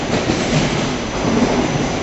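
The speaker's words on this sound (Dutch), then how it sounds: "dit is de oude trein en die er nog aankomt" Old train arriving on a railway line near Alphen aan den Rijn, a loud continuous rumble of wheels and cars rolling close by with no voices.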